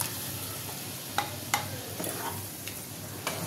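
Boiled arhar dal stirred into spices frying in a pan for dal fry, with a continuous hiss and several sharp spoon scrapes and knocks against the pan.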